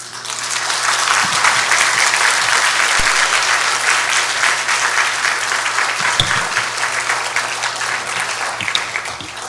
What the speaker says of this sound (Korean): 뜨겁게 박수로 환영해 주시기 바랍니다